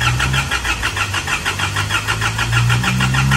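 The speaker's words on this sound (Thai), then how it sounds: "เอาสตาร์ทเครื่องยนต์นะ" An Isuzu MU-X with an unexplained coolant loss starts up, its engine churning in fast, even pulses that settle into a loud, close, rumbling run.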